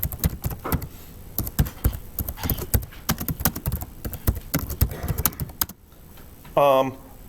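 Rapid, uneven keystrokes on a computer keyboard clatter close by for several seconds, then stop, with a short electronic tone near the end.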